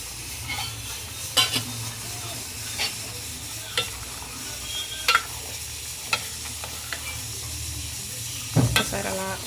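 Chicken and drumstick curry, topped with a little coriander, gets mixed in a pan: a soft continuous simmering sizzle broken by several sharp spoon scrapes and clinks against the metal.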